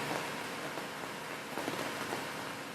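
Steady rain pours down outside a front porch just south of San Francisco, California, a dense continuous hiss of drops spattering on surfaces, close and even throughout.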